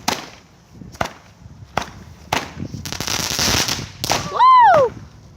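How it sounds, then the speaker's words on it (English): Fireworks bursting late at night, a run of sharp cracking bangs spaced about a second apart building into a denser crackling barrage, with a voice exclaiming over the blasts near the end. "we're gonna see these fireworks"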